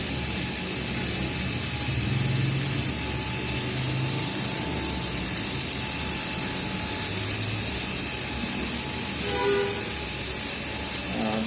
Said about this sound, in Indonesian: Kita ganti mata bornya untuk bagian yang menghaluskan.